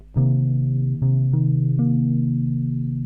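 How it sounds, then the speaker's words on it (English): A bass guitar plays a slow minor seventh arpeggio, four ringing notes stepping upward, each sustained and overlapping, with a warm, slightly chorused tone. "so that's our minor 7 arpeggio"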